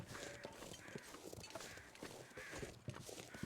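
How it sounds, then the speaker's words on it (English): Crows caw repeatedly in The Long Dark, harsh calls rising at intervals over a constant windy ambient bed at moderate distance. "I can hear crows"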